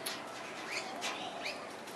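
An injured corella parrot gives several short, sharp chirping calls, spaced irregularly over a steady noisy background, close to the listener with no talking.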